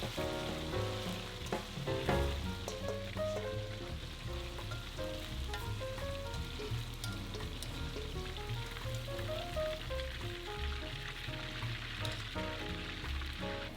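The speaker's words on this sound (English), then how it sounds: "Turn to high heat, then add the beef again for only a few more seconds" Beef stir-fried over high heat in a wok gives a steady, dense sizzle with scraping stirs, under continuous background music and no talk.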